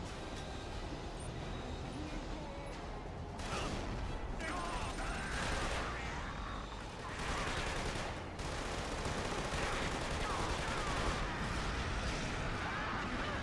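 Gunfire and explosions from the shooter game Killzone 2, a dense, continuous battle roar with sustained rumbling blasts and crackling shots throughout, loud and busy with faint voices mixed in.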